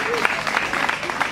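Brief burst of audience clapping welcoming a speaker at a school event, with a voice talking over the applause.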